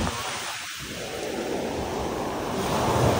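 Ocean surf at Rock Beach in Pondicherry, a continuous loud wash of breaking waves with heavy wind rumble on the microphone, swelling slightly toward the end with no voices.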